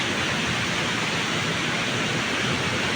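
Spring water runs out from under a rock, a steady, dense rushing hiss that stays even and close throughout, with no voices over it.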